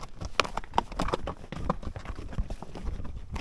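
Horse hooves clip-clop steadily on a desert trail ride near Tucson, Arizona, an irregular run of fairly close, moderately loud hoofbeats from several animals with no talk over them.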